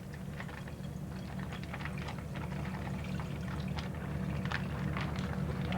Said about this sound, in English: what we're going to do then is get the water out of the sauerkraut